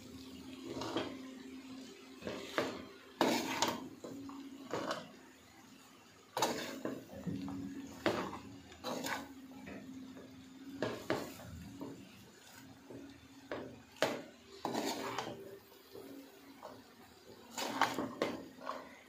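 Chinese mixed vegetables with cabbage being stirred together with chili sauce in a pan, giving soft repeated scrapes and light clatters of a spoon against the pan at an uneven pace, fairly quiet.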